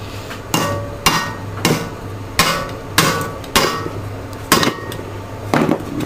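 Sharp metallic hammer blows strike a Honda OHC engine crankcase to split it, about ten close, loud hits at an uneven rhythm with ringing decay between them.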